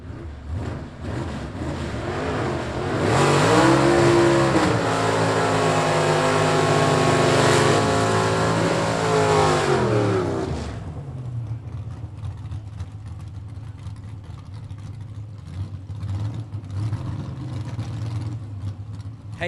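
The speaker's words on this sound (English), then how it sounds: "Underdog, the 1967 Camaro." A 1967 Camaro gasser race car engine roars loudly at a Southeast Gassers Association drag race, rising and sweeping in pitch for several seconds before dropping away to a distant rumble.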